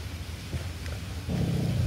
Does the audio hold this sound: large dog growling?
yes